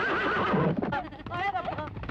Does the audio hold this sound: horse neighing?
yes